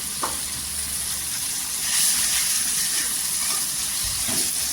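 Garlic and ginger paste frying in hot oil for a spicy dried fish and drumstick curry, a continuous close sizzle with a few stirring scrapes, no voices.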